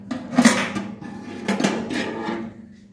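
Metal parts clink and clatter as an oven rotisserie piece is lifted out with its handle, a few close knocks and rattles followed by a fading metallic ring.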